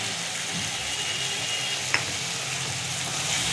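Spice masala with chili powder, salt and a splash of water frying in a pan, a steady close sizzle with soft stirring scrapes and one brief clink, no talking.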